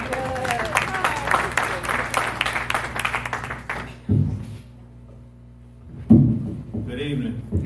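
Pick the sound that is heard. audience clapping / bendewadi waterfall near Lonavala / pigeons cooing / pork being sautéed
audience clapping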